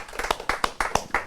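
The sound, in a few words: audience applause for Helder Mendes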